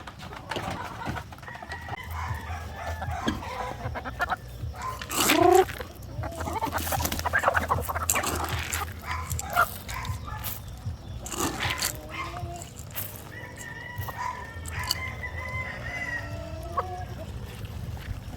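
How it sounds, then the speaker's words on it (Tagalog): Heritage chickens kept for egg and chick production cluck and call around a farmyard, with scattered short clucks near and far and a louder squawking call in the middle. "So ito yung mga heritage chicken natin."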